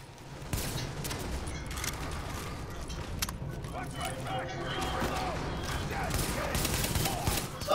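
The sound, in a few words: gunfire in the video game The Division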